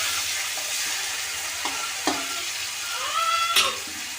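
Chopped tomatoes salted in a pan for a Bhooth Chanda fish curry sizzle steadily under a spoon, with a few scraping stirs and clinks. A short, high, wavering cry rises briefly near the end.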